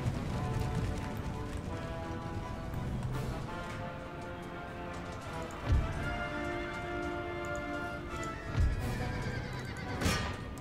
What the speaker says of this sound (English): this unit of horse artillery is going to be just taking an unorthodox route through enemy lines